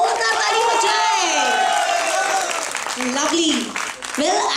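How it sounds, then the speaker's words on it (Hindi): Audience at a Bollywood-themed show applauds and cheers in a loud, sustained burst of clapping mixed with crowd shouts and voices. "एक बार फिर से इनके लिए जोरदार ताली बजाएं."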